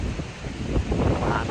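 On a windy, cloudy day outdoors, gusts buffet the microphone with a continuous low rumbling roar.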